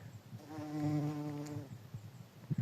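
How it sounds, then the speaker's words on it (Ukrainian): A bumblebee buzzes close by with a low droning hum that swells briefly and fades, amid faint outdoor rustling. "О, жмелики, дивіться, жмелики е, пил, пилок збирають."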